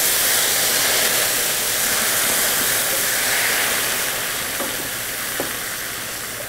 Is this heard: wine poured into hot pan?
yes